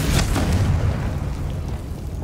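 A Confringo spell explodes in the Hogwarts Legacy game, opening with a deep booming blast whose rumbling debris fades over a couple of seconds.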